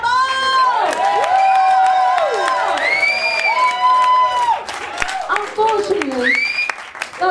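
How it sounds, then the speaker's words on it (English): A live crowd at a bar gig applauds and cheers loudly for a band, with sustained clapping, whoops and shouts running throughout, while a voice carries over the top. "one enormous, ginormous round of applause for the very fabulous Devil's Cut Combo!"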